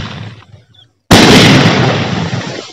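A Diwali sky shot firework goes off after a quiet pause, with a sharp, loud burst that settles into a crackling, hissing roar fading over a second or so, heard close outdoors.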